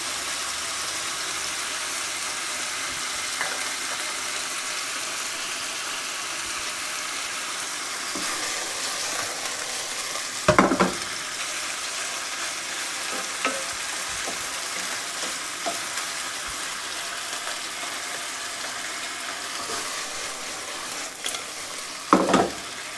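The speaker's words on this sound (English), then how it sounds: "all you're trying to do is brown it a bit, because you want it browned before you add the sauce in." Chicken pieces browning for kung pao in a hot, uncrowded pan make a steady, close frying sizzle throughout, broken by a few short clatters of stirring.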